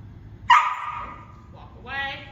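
A pet dog lets out one sharp bark, then a short whine and a second higher yelp, close by and loud, during an indoor obedience training session with a trainer.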